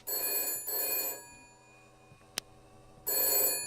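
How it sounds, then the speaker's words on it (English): Telephone ringing in the video game Shadows of Doubt, a bright electronic bell trilling in two quick bursts, pausing, then starting again, with a brief click between rings. "Oh, your phone's ringing?"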